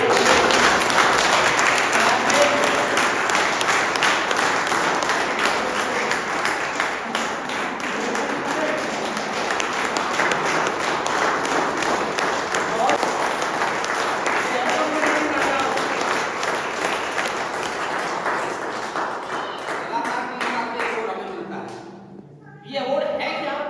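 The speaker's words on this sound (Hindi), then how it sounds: "एक बार जोरदार तालियां दें।" An audience at an award ceremony applauds steadily for about twenty seconds, a dense wash of clapping with a voice heard over it, then dropping away sharply near the end.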